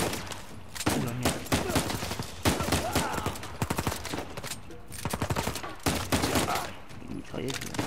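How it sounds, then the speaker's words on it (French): Machine gun fire in the video game Uncharted 4, with repeated rapid bursts and scattered shots across a busy battle soundscape, while a player speaks at moments. "Une mitraillette, là."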